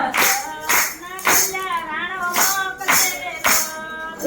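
Hands clapping in a regular beat along with voices singing a Gujarati devotional song, roughly one clap every half second, loud and close.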